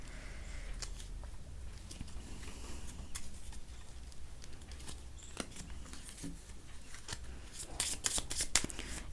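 Tarot cards shuffled and drawn in a card reading, a soft continuous papery shuffle with scattered crisp card snaps and flicks, close and fairly quiet, busier near the end.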